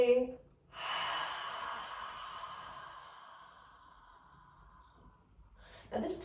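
A deep breath is let out through an open mouth, an airy exhale that starts strong and slowly fades over several seconds, with a fresh breath starting at the end.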